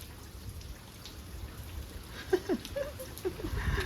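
Light rain patters steadily, with a few sharper drops and splashes standing out near the end.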